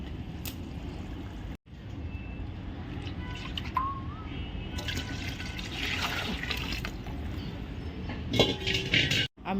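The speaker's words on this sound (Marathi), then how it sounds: "त्याच्यामध्ये आता आपण हे मगाशी जे डाळीचं पाणी काढलेलं आहे ते टाकू" Lentil cooking water pours into an oily onion-garlic masala on a wood-fired stove, a steady liquid gush with brief breaks, splashing and dripping near the end.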